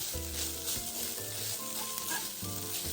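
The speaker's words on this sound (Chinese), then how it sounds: "继续拌炒至水分收干即可" Pumpkin rice dumpling filling sizzles and fries steadily in a wok as it is stir-fried with dark soy sauce and Shaoxing wine, with soft scraping stirs over a continuous hiss and no talking.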